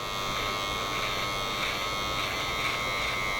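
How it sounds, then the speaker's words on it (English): An electric hair trimmer buzzes steadily and loudly during a barber haircut, a constant close-up whine while tidying the hairline, with no talking. "instead of just grabbing my clippers to tidy that up, I just use the trimmer"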